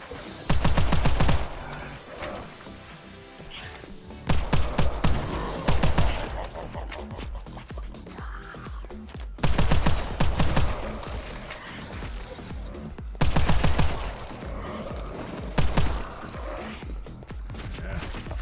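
Gunfire in a first-person shooter, Embarogo Hellbreach Vegas, fired in four loud bursts of rapid shots separated by quieter stretches of game ambience, with no talking.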